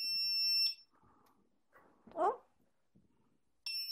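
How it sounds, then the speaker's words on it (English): A Begode electric unicycle entering firmware recovery mode gives a long, shrill electronic beep, then goes quiet apart from faint handling noise and a brief rustle before a second long beep starts at the end. "that's when you'll hear the long beeps."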